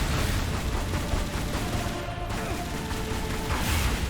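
Rapid, dense gunfire fills the fight against a boss in Tomb Raider Anniversary, loud continuous bursts over game mechanism noise, with a brief lull before shooting resumes.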